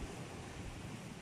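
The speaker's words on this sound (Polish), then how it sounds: "ale wiatr wieje nieprzyjemny" Wind blows outdoors in a spring garden, making a brief, steady broadband rush that buffets the microphone.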